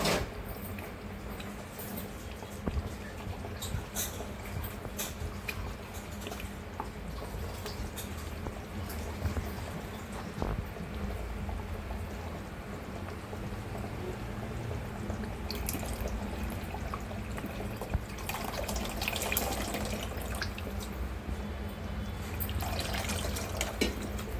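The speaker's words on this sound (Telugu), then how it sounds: "కొంచెం నీళ్ళు పోసుకుందామండి." Water pours steadily into a pot of fish curry broth with a continuous splashing, liquid sound, fairly close, running for most of the stretch with small clinks and a brief louder patch near the end.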